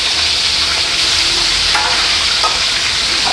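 Large fresh catfish fry in hot oil with a constant sizzle and crackle, a steady hiss with occasional louder pops, heard alone.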